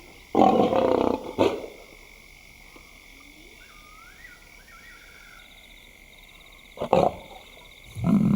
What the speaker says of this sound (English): the youngsters have heard her call